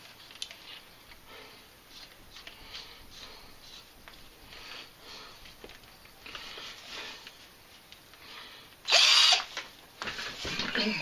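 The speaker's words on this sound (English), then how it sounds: "drill our 1/4 inch hole." A power drill whirs in a short, loud burst near the end, drilling a quarter-inch hole in a wall, after quiet rustling and faint handling sounds.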